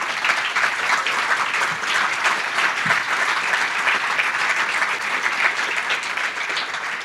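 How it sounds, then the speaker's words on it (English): Sustained applause from a conference audience at a React Native talk, a full, even wash of many hands clapping that holds at the same level throughout, with no talk over it. "I really want you to have a round of applause to this guy"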